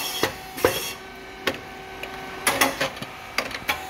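A SYP4006 rice cake machine with coated moulds running on a white and brown rice mix, giving irregular sharp mechanical clacks and brief hissing bursts over a steady fan hum, close and fairly loud.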